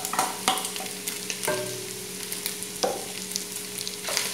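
Onion sautéing in a pan for pea and yam soup, a steady close sizzle punctuated by occasional stirring scrapes and utensil taps.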